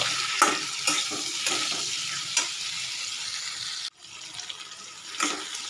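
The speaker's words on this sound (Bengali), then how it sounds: "এবার এটাকে নাড়বো, একটু ভাজা ভাজা হোক, টমেটোটা একটু নরম হোক" Tomato with turmeric and salt sizzles in a pan while being stirred, with rhythmic scraping strokes over steady frying noise, then a sudden drop to a quieter sizzle.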